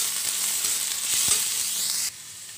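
Capsicum frying in a kadai with lightly browned onions produces a bright, loud, continuous sizzle with a few soft stirring knocks, dropping off abruptly at the end.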